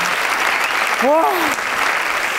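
A comedy theatre audience keeps up thick, even applause while a single voice briefly cries out over it partway through.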